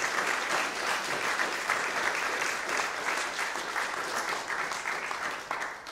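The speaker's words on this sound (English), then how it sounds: "I do think a round of applause is in order." Steady, dense applause from a sizable crowd, sustained clapping at an even loudness throughout.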